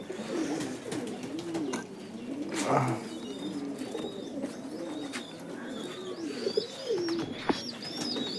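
Satin pigeons kept for sale coo in soft, repeated rolling calls at close range, with faint chirps and light rustling behind them.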